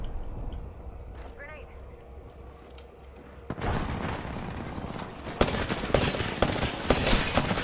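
A grenade goes off in a video game, a sudden loud blast followed by several seconds of dense rumbling and crackling combat noise, with a voice talking quietly before the blast.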